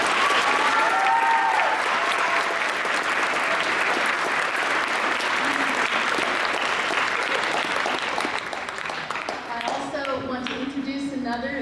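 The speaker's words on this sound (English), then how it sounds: "let's give him a big round of applause" Sustained applause from a school audience at a Veterans Day assembly for a veteran, dense clapping for several seconds that tapers off as a voice begins speaking near the end.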